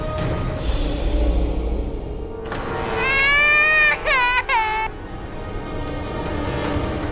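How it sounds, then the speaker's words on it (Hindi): A baby crying: a loud, wailing cry with rising and falling pitch lasting a couple of seconds, close by and over a dense background of dramatic music. "गौरी की रोने की आवाज आ रही है"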